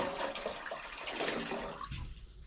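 Water pouring steadily into a large empty engine oil pan to gauge its capacity, a close, full splashing gush that runs on and then tapers as the stream thins near the end.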